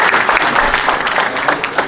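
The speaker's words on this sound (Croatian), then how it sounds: "Jedan aplauz za Jelenu." A concert audience at a gusle players' and folk singers' event applauds loudly, a dense sustained wash of many hands clapping close by, with a faint murmur of crowd.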